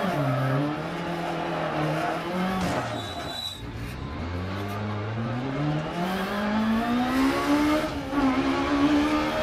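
Rally car in DiRT Rally driving hard on a stage, engine rising and falling through gear changes as the tyres skid and slide through a hairpin, continuous and loud with no talk.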